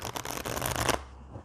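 A deck of cards being shuffled, a close riffle of quick rapid flutters lasting about a second, then settling into quiet, with no talking.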